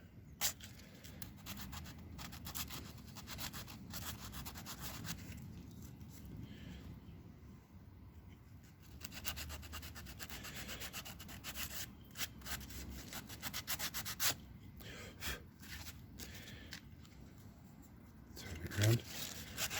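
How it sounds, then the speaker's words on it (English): Sandpaper rubs and scrapes around the edges of a 32mm or 40mm tabletop-game miniature base, making quiet, irregular scratchy strokes that come and go in short bursts, close and soft. "But then I take my sandpaper again, and I will go around and try and get the biggest points down."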